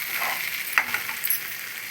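Ginger-garlic paste frying in a pan, a soft steady sizzle with a few light scrapes and clicks as it is stirred, fairly quiet and close with no talking.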